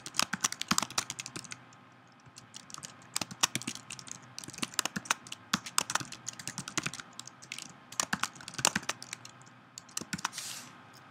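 Rapid, uneven keystrokes on a computer keyboard as a new entry is typed out, close and moderately loud, continuing steadily throughout with brief pauses and no talking.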